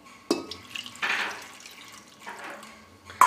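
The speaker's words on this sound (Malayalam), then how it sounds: "ഇത് കുക്കറിൽ ആവശ്യത്തിന് വെള്ളം ഒഴിക്കാം." Water pours into a pressure cooker to boil soya chunks, coming in short splashing bursts separated by brief pauses, close and moderately loud.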